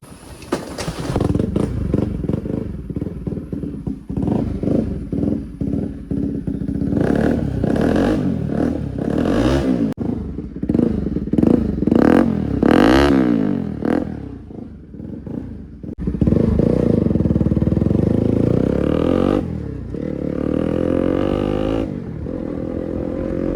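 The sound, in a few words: bike engine push-started and running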